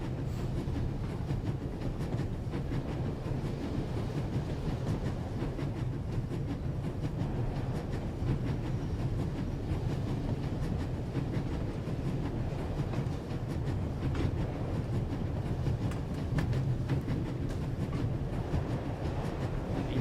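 A moving train in the video game The Raven rumbles steadily throughout, a continuous loud rolling drone with faint clickety-clack from the rails and no talk over it.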